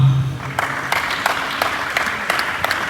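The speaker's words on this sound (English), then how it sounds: "A round of applause for her, please" Audience applauding for a dean at a university presentation, a steady wash of many hands clapping in a hall, loud and continuous with no talk over it.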